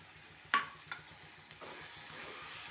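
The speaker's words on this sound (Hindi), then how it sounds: "अब इसमें हम डाल देते हैं टमाटर जो हमने पीस कर रखे हुए थे।" Eggplant bharta masala frying with ground tomatoes in a pan, heard as a faint sizzle broken by a few sharp utensil clinks and a soft splash, with no voices.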